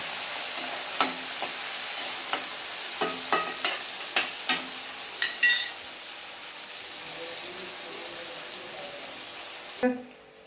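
Chopped onions sautéing on full flame in a pan for spinach masala khichdi, a soft steady sizzle broken by a series of sharp clinks and scrapes from stirring, then a louder clatter near the end.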